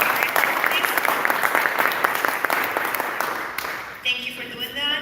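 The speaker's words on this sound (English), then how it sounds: "Can you please give them a round of applause?" Dense audience applause at a 2022 candidates forum in Salinas, California, rolling steadily from a seated crowd before thinning and fading out near the end.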